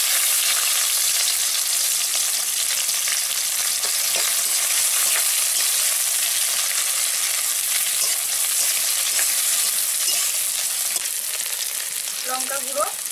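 Five-spice, green chili and onion sizzle in hot oil, a steady bright frying hiss running unbroken from start to finish, close and loud, with a few faint clinks of stirring near the end and no talk.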